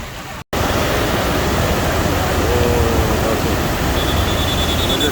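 A swollen river rushes past in full flood on the way to Pharping, giving a loud, steady, unbroken roar that fills the whole clip after a brief cut near the start.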